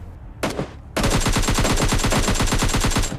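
Rapid automatic gunfire in PUBG Lite, loud and close: a short burst, a brief pause, then a long unbroken stream of evenly spaced shots with no talking.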